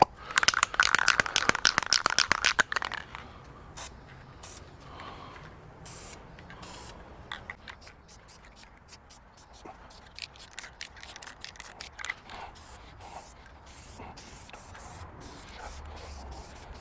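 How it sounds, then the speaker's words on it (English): Aerosol can spraying clear gloss wood finish onto the backs of end-grain wooden drink coasters, a loud hissing burst for the first few seconds followed by quieter handling and rubbing sounds. "going to spray a coat of lacquer to seal the backs"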